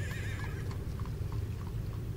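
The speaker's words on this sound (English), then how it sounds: "the occasional horse and carriage that clip-clops past you on the cobble roads" A horse pulling a carriage clip-clops along cobblestones at a steady walking pace, hooves knocking in an even rhythm, with a neigh at the start over a low rumbling background.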